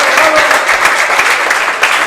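A crowd at a men's quarterfinal match of the 2018 Racquetball World Championships bursts into loud, sustained applause, dense clapping filling the whole stretch with a few sharper peaks.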